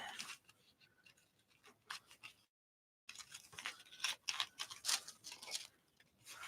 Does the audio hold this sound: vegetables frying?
no